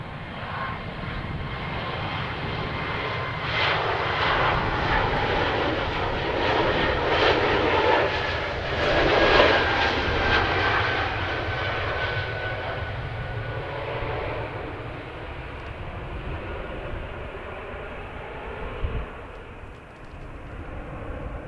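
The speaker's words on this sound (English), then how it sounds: "Porter Embraer aircraft heading to Hamilton" A Porter Embraer airliner at Edmonton International roars steadily for the whole stretch, swelling to a peak midway and then easing slightly. The broad engine rumble stays loud throughout, with no talking.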